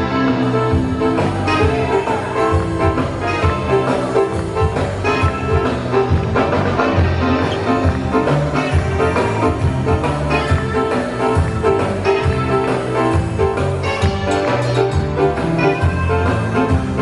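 A Cuban group playing a song: a continuous full-band recording with dense rhythm and tonal instruments, steady and loud throughout, with no talking over it.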